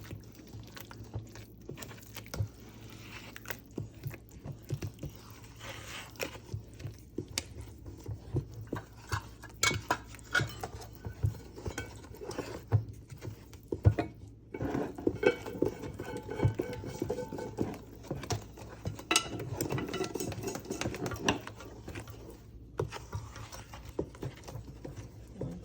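A spoon stirs thick coconut toto batter mixed with fruit, wine and rum in a bowl, making steady soft clattering and wet scraping strokes close by, repeating in an uneven rhythm over a long stretch.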